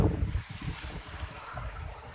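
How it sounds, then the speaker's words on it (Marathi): Strong gusts off the sea buffet the microphone in a low, rumbling roar, steady and close, with no talking. "जोरात वारा येतोय"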